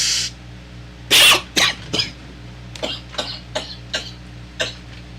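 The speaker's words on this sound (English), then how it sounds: "You think the coughing part is cool though?" A person coughs in a string of sharp bursts on a radio show, one loud hack followed by several shorter, quieter coughs spaced irregularly, close by.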